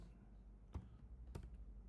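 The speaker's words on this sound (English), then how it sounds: "Now I'm going to press on the tab button in the keyboard." A single tab key pressed on a computer keyboard while writing code, two quiet, close clicks about half a second apart against a faint room hum.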